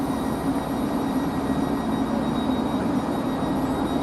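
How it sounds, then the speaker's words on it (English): A Class 158 diesel multiple unit pulls away from a station, its steady mid-pitched engine drone and rolling rumble holding at a moderate distance, with no voices. "We have a class 158 unit on its way to Manchester Piccadilly station"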